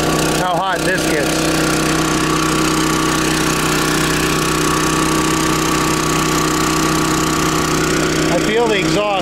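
A tongue-mounted RV generator engine runs steadily and fairly loud, a constant drone with brief rattles near the start and end, while someone talks nearby.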